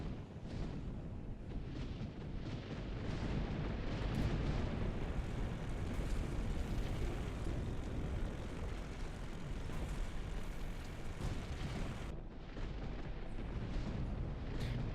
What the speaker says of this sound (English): Trying to use the reverse thrust to anchor myself.